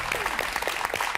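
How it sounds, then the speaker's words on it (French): Studio audience on a televised quiz show applauds in a brief, dense burst of steady clapping, close and continuous, with voices faintly mixed in. "le public vous applaudit"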